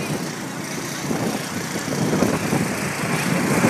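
Cars pass by on a street in a continuous stream of road noise that swells louder toward the end, with no clear gaps between vehicles.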